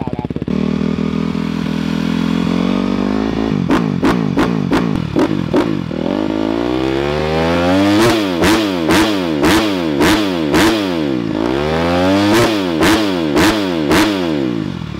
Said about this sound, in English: We get a couple revs, let it warm up